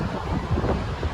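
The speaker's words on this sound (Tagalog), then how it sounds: "Lakas ang alon." Strong sea waves surge and wash in a continuous roar blended with wind noise, loud and close, with no voices.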